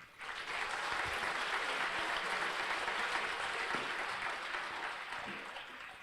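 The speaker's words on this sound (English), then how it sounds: "Please give yourselves a round of applause." Crowd applause from families at a Basic Combat Training graduation ceremony, a broad, sustained wash of clapping from a large audience that swells quickly, holds steady for several seconds, then gradually tapers off.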